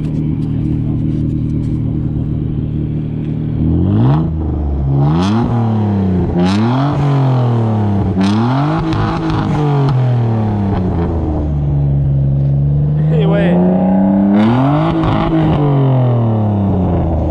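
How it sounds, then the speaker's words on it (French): A BMW E36 328i fitted with a bi-turbo engine revs in a series of rising and falling throttle blips, loud and close, with brief talk over it. "Je vais faire un petit juste accélérer à peine pour voir le son derrière"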